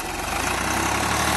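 A 1993 Swaraj 735 tractor runs its old diesel engine with a steady, loud, close rumble and rapid low throb, continuous and without talk.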